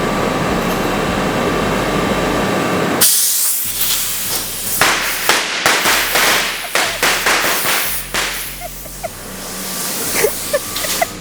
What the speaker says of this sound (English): Just roll around with illegal fireworks?